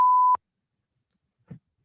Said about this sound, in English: I keep beeping the shit out of her.